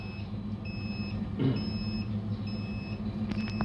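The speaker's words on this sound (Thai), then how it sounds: "ตอนนี้เสียงที่ดังอยู่ก็คือเสียงอะลามนะครับเนื่องจากเราเปิดประตูตู้ออกนะครับ" An egg incubator's alarm beeps after its door is opened, giving short, high electronic tones repeated in an even pattern over a low, steady machine hum. There is a brief thump midway.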